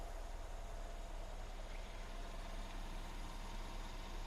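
A 2013 Mercedes-Benz E550 4Matic AMG Sport's V8 idles steadily and smoothly at a quiet, even level, heard from close by with no voices over it.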